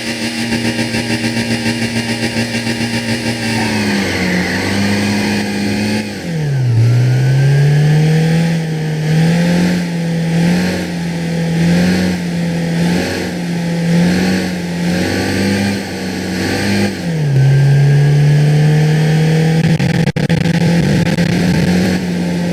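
A car engine in Gran Turismo on PSP revving and accelerating through repeated gear changes, pitch climbing then dropping at each shift, loud and close with a steady driving rhythm.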